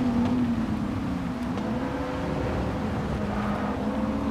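A Mazda RX-7 engine drones steadily in the Gran Turismo 7 racing game, a continuous buzzing hum at a fairly even pitch with slight rises, heard alone without talk.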